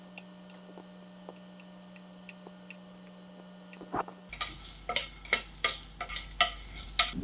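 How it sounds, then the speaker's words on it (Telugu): Dry red chillies fry in a pan and are stirred, at first faint ticks over a low hum, then louder scraping strokes in an uneven rhythm with a light sizzle, no voices. "మంచిగా వేయించుకుంటున్నాను."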